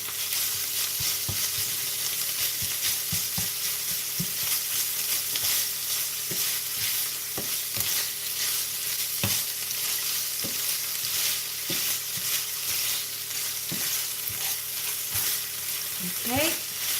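Mapo tofu sauce fries hard in a pan on a stove at high heat, a loud, steady sizzle with occasional stirring scrapes and knocks throughout.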